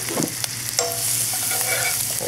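Shallot and garlic fry in fat in a pan, a steady close sizzle with a few stirring scrapes and clinks across the short stretch, no talking.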